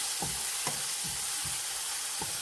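Green beans and raw plantain being stir-fried in a pan, with a steady soft sizzle under repeated scraping stirs of a spoon, about five strokes in a loose rhythm, heard close and without talk.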